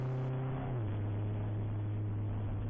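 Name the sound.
BMW race car engine at COTA endurance race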